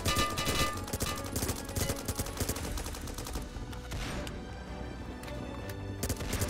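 Gunfire in a Roblox military rescue game, with dense rapid bursts and overlapping shots that run continuously and loud, thinning slightly toward the end.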